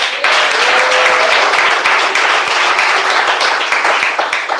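A church congregation applauds, loud sustained clapping from many people packed close together, with a faint tone and scattered voices underneath.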